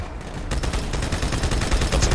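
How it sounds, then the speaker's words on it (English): Mounted turret in Halo 2: Anniversary opening up after a brief quiet start, a loud sustained stream of rapid automatic gunfire pounding without pause for about a second and a half. "use this turret."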